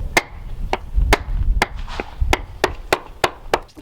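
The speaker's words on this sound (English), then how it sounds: "we've been using the lump hammer, just a little bit more weight to it" Lump hammer striking thick cut granite cobble stones while laying a driveway, nine sharp, evenly spaced knocks ringing out close and loud with no talking.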